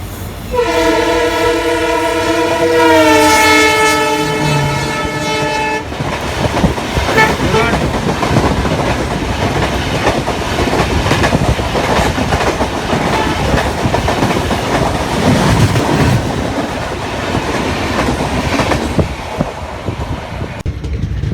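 A weekly diesel express rolls past on a single line in India, opening with a long, loud two-tone horn blast, then a continuous close roar and rattling clatter of wagons.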